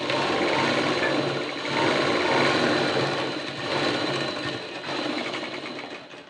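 A sewing machine stitches a blouse with a loud, close, continuous mechanical whirr that eases slightly in places and runs nearly the whole time, with no talking.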